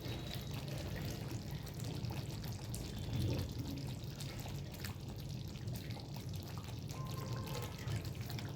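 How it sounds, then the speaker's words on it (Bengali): Kewra water is poured into a pot of white chicken korma, a faint, steady liquid pour and trickle that is quiet throughout. "আমি একটু কেওড়া জল দিয়ে দেবো।"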